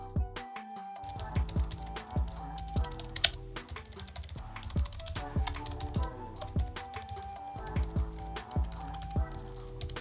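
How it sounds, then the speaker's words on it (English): Steady typing on a Logitech MX Keys keyboard, a continuous stream of crisp key clacks with occasional heavier thuds, close up and with no talking. "Now I'm going to do a simple sound test, so you guys have a better idea how the keyboard sounds."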